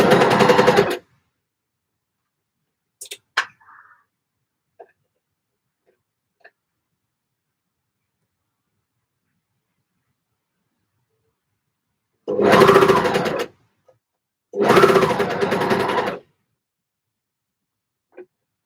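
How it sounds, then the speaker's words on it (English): A sewing machine stitching knit fabric in short bursts, one at the start and two near the end, with small clicks and handling noises between and otherwise near silence. "Do not sew over the pins."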